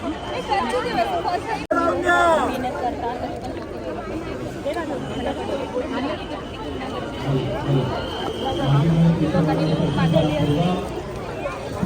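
Dense crowd chatter near a Ganpati pandal at a busy fair, with many overlapping voices close by, a sharp click early on and a low hum emerging later under the continuous babble.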